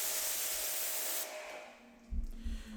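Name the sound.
water spray rinsing a car panel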